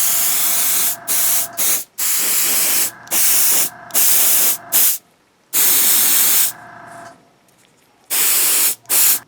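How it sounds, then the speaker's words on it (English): Short bursts of an aerosol spray can hiss loudly and close by as small scale-model parts for an AT-ST build are coated dark gray, with about seven or eight separate blasts of varying length and brief silent gaps between them. "Painting these a really dark gray."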